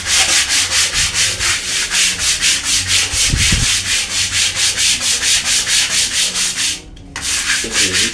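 Bathroom tiles being scrubbed with detergent in a steady, loud back-and-forth rubbing rhythm, close up and with no voices.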